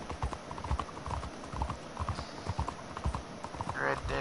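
Horse hooves clip-clop in a steady, repeated rhythm in the video game Red Dead Redemption 2, fairly close and clear, with a brief whinny-like sound near the end and no speech over it.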